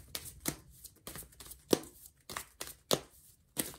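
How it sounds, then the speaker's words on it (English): A deck of tarot cards is shuffled by hand close up, giving a series of sharp riffling snaps in an uneven rhythm with brief pauses between them. "Let me just do one more shuffle."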